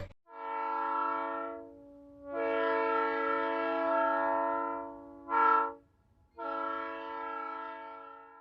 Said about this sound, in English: Today I'm on one of the most exciting train rides I've ever been on.